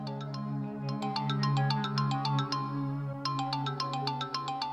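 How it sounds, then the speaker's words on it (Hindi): A mobile phone ringtone plays indoors, a repeating melodic electronic tune of bright tonal notes, clear and moderately quiet with no voices over it. "फोन बज रहा है तुम्हारा।"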